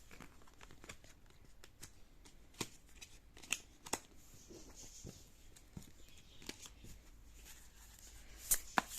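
Tarot cards being shuffled during a reading, a steady run of soft papery riffles and light flicks with a few sharper snaps near the end, close and quiet with no talking.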